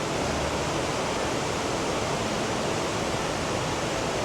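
A waterfall in a valley, full of water after rain, roaring as a dense, unbroken rush of white noise, loud and close throughout.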